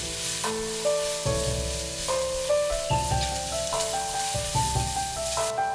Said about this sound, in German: Die Zwiebeln unter ständigem Rühren ein paar Minuten lang anbraten,